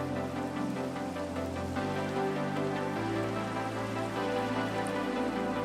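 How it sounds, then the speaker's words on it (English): Rain falls in the Minecraft video game, a steady soft hiss under sustained background music, with no speech. "it's starting to rain."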